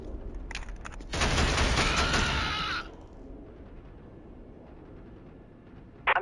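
A burst of rapid automatic gunfire rattles loudly for about two seconds in a Killzone HD firefight, then fades into a quiet rumble, ending with a short sharp crack.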